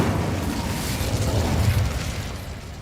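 Incendio fire spell blast in the Hogwarts Legacy game, a dense roaring whoosh of flame sustained for about three seconds, loud and broad with a rumbling low end, no voices over it.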